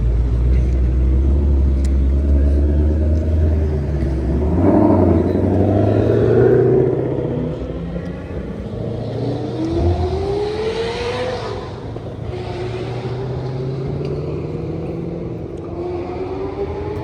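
A car with a loud exhaust accelerates past, a deep engine rumble rising in pitch and fading over about seventeen seconds, loud and close with no voices.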